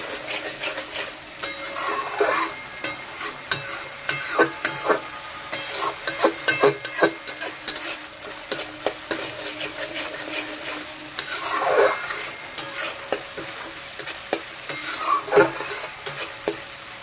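Fish curry cooks in oil with a little water, sputtering and sizzling under frequent rapid spatula scrapes and taps against the pan, busy and close throughout, with no voices.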